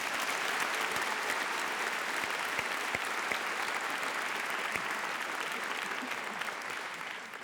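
A theatre audience at a French comedy show claps in a dense, sustained round of applause that continues steadily and fades slightly at the end.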